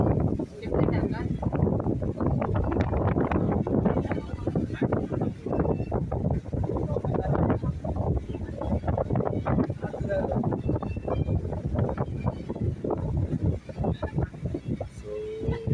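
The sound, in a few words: wind blowing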